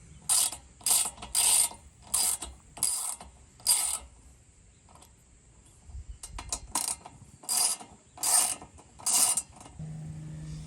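Bolts on a bicycle's disc brake caliper being tightened, heard as bursts of fast ratcheting clicks from a close hand tool, about a dozen separate strokes with short pauses between them, plus a faint low hum near the end.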